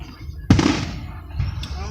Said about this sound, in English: They got them good fireworks too.